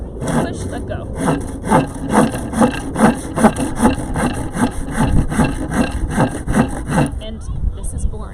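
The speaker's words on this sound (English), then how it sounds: "It's not boring, it's sawing." A hand saw cuts through wood in a rhythmic series of about fourteen rasping push strokes, close and fairly loud, at a steady pace before stopping.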